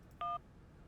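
A single short telephone keypad dial tone beeps once, clean and moderately loud, over a faint low background hum in the Syberia video game.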